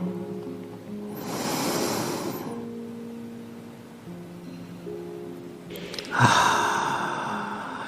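A deep, slow breath drawn in during a guided breathing exercise, then a second breath soon after, both soft and close over a steady bed of calm, sustained music.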